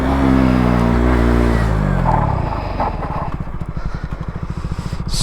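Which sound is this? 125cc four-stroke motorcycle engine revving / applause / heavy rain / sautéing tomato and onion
125cc four-stroke motorcycle engine revving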